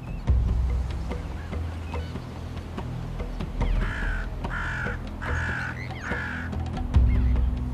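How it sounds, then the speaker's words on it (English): Hooded crows on sea cliffs give a run of four harsh caws in quick succession, fairly close, over a low background of wind and sea noise. "And hooded crows, or hoodies, will mug them for their fish once they're ashore."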